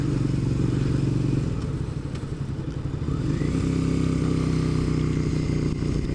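A motorcycle engine drones steadily and loudly throughout, with a brief dip and change in pitch partway through as a gear is shifted with the clutch and foot peg.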